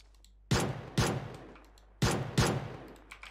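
Gunfire in PUBG Mobile: four loud, sharp shots come in two quick pairs, each cracking out and then tailing off into a brief echo, with no voices.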